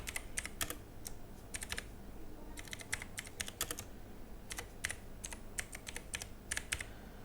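Typing on a computer keyboard, close and clear, with quick bursts of clattering keystrokes separated by short pauses, steady rhythm, no talking.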